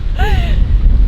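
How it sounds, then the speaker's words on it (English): Strong wind gusts at a pond buffet the microphone with a heavy, low rumble, and a voice cuts in briefly over it. "it's windy as heck"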